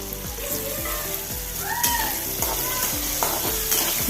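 Bitter gourd stirred as it fries in a pan, a loud continuous sizzle broken by rhythmic scraping strokes of a spatula, close and with no voices.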